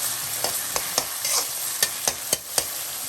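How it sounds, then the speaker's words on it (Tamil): Onions sizzle and fry in a pan for a mutton Chettinad gravy, a steady close hiss broken by several sharp stirring scrapes spaced through the clip, with no voices. "கொஞ்சம் நல்லா வெங்காயம் வதங்கணுங்க"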